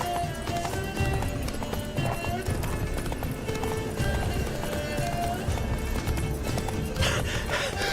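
Roach, a horse in The Witcher 3 video game, gallops with fast, continuous clip-clop hoofbeats that stay loud and steady throughout, mixed with game music and ambient effects.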